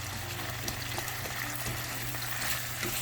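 Chopped onion sizzles steadily in hot oil over a medium flame while cooking for dhaba-style palak paneer, a continuous close hiss and crackle with no talking.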